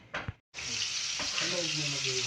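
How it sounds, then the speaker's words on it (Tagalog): Onion, garlic and ginger sautéing in a pan with pork fat, a brief clatter, a short silence, then a steady close sizzle that runs on loud and even. "nagisa na tayo ng sibuyas, bawang at luya. Na may kasamang ano na. Na may kasamang taba-taba"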